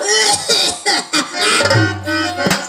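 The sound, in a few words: cough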